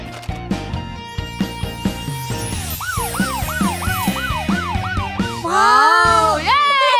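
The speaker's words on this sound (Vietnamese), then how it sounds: "Đây là xe cảnh sát." A police car siren from a children's song, wailing in repeated rising-and-falling sweeps over bouncy, rhythmic music, then a brief louder whoop at the end.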